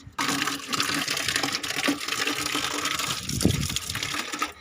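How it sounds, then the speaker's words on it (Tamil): Water gushes and splashes steadily as it is poured to rinse out an emptied betta fish tank, a close, continuous wash lasting several seconds with a brief stronger surge near the end. "இப்போ தண்ணியை ஊற்றிட்டு க்ளீன் பண்ண வேண்டியதாங்க"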